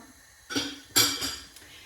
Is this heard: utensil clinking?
yes